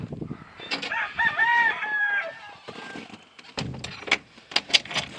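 Little bantam chickens outdoors in frozen winter weather: one gives a drawn-out crowing call, followed by a scatter of sharp clucks and scratchy movement close by.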